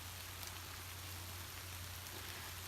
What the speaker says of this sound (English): I'm still out here in the pouring rain.